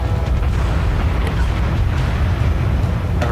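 Heavy, continuous low rumble of warship gunfire and booming explosions in the World of Warships naval combat game, loud and sustained throughout with no speech.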